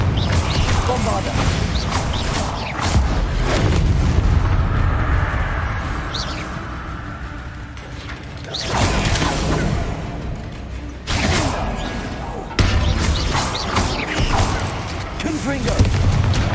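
Heavy booming blasts and crashing bursts from the Bombarda spell in Hogwarts Legacy roll through the game's dense battle audio, loud and sustained, with voices talking over the din.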